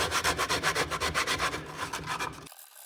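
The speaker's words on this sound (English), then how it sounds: "So I got a little bit of 120 here. I'm just gonna get in here and give it a good sand." A hand with 120-grit sandpaper sands a live-edge wooden charcuterie board in quick, even back-and-forth strokes, close and soft, ending abruptly.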